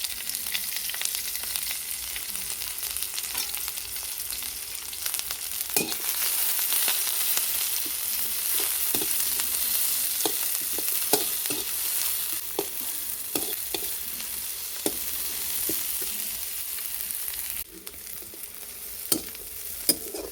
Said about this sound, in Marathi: त्यामध्ये आपण दोन कट करून घेतलेले कांदे भाजून घेणार आहोत